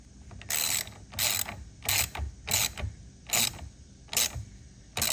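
A hand ratchet tightens bolts while grill lights are fitted to a Ford Bronco, with seven evenly spaced bursts of close, loud clicking separated by short pauses.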